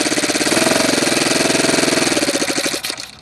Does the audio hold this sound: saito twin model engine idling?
yes